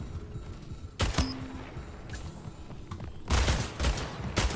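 Gunfire in the online shooter Splitgate: a couple of sharp single shots, then a heavier burst toward the end, set over a steady game background hum.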